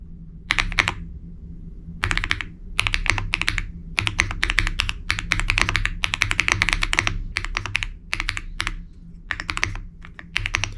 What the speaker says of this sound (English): The star of the show is this keyboard.